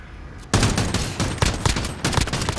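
Rapid bursts of automatic gunfire in the Call of Duty: Modern Warfare video game, loud and dense, breaking into several sustained volleys with brief gaps between them.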